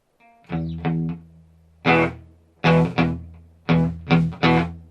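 An electric guitar played through a Quilter 101 Reverb Mini Head with the reverb turned off, sounding as about seven loud, dry chord strums in a loose rhythm, each decaying quickly with no tail.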